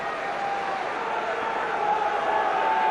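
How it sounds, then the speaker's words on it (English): A football crowd at a 1990/91 Derby County versus Chelsea match cheers goalkeeper Peter Shilton, a steady, distant wash of crowd roar sustained throughout with no distinct peaks. "getting a great reception from the Chelsea crowd"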